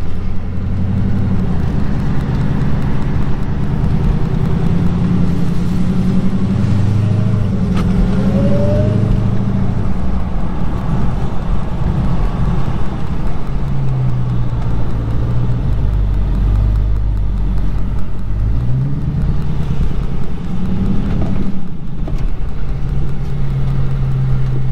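Custom 1969/2019 Plymouth/Dodge Road Runner engine rumbling close by with a deep, throaty idle and repeated revs that rise and fall throughout, loud and continuous with no talk.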